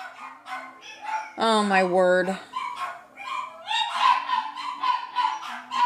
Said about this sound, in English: Here, my dog's going crazy.